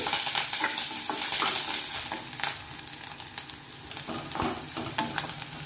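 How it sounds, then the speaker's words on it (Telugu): Onion, green chillies and curry leaves frying in a pan, a close, steady sizzle broken by occasional stirring scrapes, fairly loud throughout with no voices. "ఎక్కువనే పచ్చిమిర్చి, కరివేపాకు వేసుకొని ఇవి వేగాలి."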